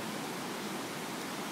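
Wolf Creek rushes through the gorge in a dense, steady wash of water noise, even and unbroken with no voices.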